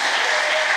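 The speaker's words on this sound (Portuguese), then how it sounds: "aplauda Jesus" A brief, loud burst of congregation applause fills a church service, a continuous wash of many hands clapping at once.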